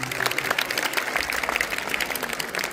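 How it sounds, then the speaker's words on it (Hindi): Clapping at a school Independence Day celebration, a moderate crowd applauding with distinct individual claps audible in a steady, continuous patter. "और इस दौरान तालियां रुकनी नहीं चाहिए।"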